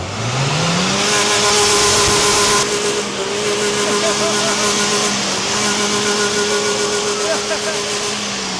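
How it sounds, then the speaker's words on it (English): A car engine revs up at a Swedish car festival and holds a high, droning pitch, loud and close, with voices talking faintly underneath. "How high can you rev it?"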